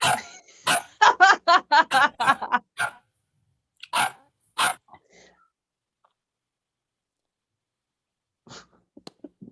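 A person imitates a dog, giving a rapid series of short sharp barks, then a few more scattered ones before falling mostly quiet.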